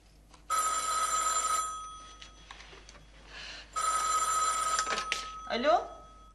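A telephone rings in two long bursts separated by a pause, loud and close, with some faint background activity between rings.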